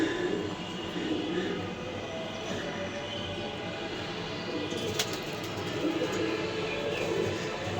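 Pigeons in a two-room home loft holding about thirty birds, soft low cooing repeating under a steady background hum, fairly close and faint.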